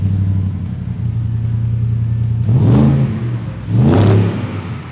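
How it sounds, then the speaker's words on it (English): A 2024 Ford F-150 XL pickup with an aftermarket exhaust idles with a deep, steady rumble, then revs twice in quick, loud bursts that rise and fall, close by with no talking. "We've also done aftermarket exhaust on this one as well, so to give it that really nice sound too."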